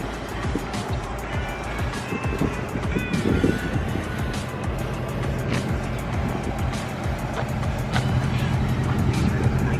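A 2019 Ford Mustang GT Premium engine rumbles low and steady for about ten seconds, a deep continuous drone with a faint higher whine, no talk over it.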